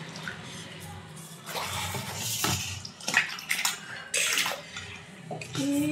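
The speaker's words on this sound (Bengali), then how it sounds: "সব জলে ধুয়ে নেব। কপিটাতেও জল দিয়ে দেব।" Cabbage and other vegetables are washed in water in a home kitchen while cooking a cabbage dish: close splashing, sloshing and trickling water comes in uneven bursts, with no voices.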